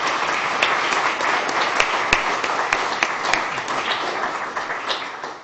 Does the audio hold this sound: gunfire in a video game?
no